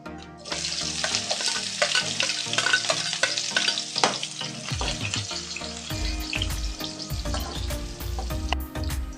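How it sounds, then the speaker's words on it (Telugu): Onion pieces are added to hot oil with cumin seeds and stirred, producing loud continuous sizzling and frying with repeated scraping stir strokes close by, no voices. "జీలకర్ర కొద్దిగా ఫ్రై అయినాక ఉల్లిగడ్డ ముక్కలు వేసుకుంటున్నాను"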